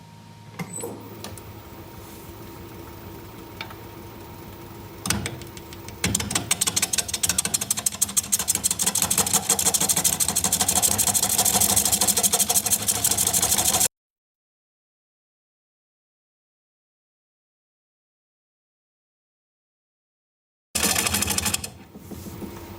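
A wood lathe spins a large, massive workpiece at 380 RPM, with a steady mechanical hum and dense scraping cut noise that suddenly stops, falls silent, then briefly resumes at the end.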